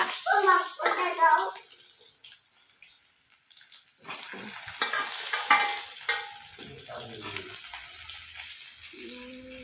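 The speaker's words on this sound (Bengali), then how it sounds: "এখানটা আমি হচ্ছে তোমার ঢ্যাঁড়সটা ভাজা বসিয়ে দিয়েছি" Okra frying in a pan gives a soft sizzle beneath intermittent nearby talk, with clattering and stirring noises in the middle.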